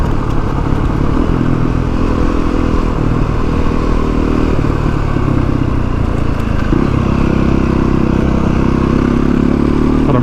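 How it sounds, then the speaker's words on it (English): An adventure motorcycle rides through bushland in East Gippsland, its engine a loud, steady, close drone with a low rumble, light shifts in pitch and faint clattering over rough ground throughout. "That's why I just ride ADV bikes."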